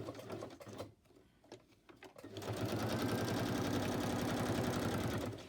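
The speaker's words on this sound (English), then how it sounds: "I'll just stitch around there and it will be pretend, and then I'm going to glue it." A sewing machine stitches around a paper notebook page. A few faint stops and starts come first, then a fast, steady, loud mechanical whirring chatter runs for about three seconds before stopping.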